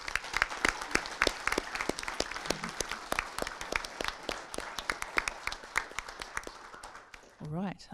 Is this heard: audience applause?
yes